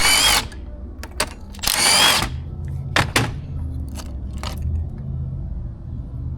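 A power tool with a 5.5 millimeter socket unbolts ignition coils from their module in a vehicle repair, giving short whirring bursts mixed with small clicks and metal rattles nearby.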